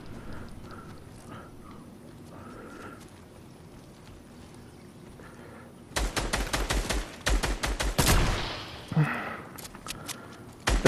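Gunfire in a Fortnite match, rapid loud bursts of shots arriving suddenly after a quiet stretch of faint game ambience, with bursts continuing and a louder blast near the end.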